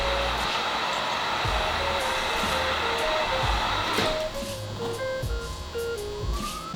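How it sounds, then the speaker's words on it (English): A heat gun blows a steady, loud, continuous whooshing roar while warming a car window banner on a Mazda 3, with a faint electric whine beneath it. "what I'm gonna do now is go around with a heat gun and push that down"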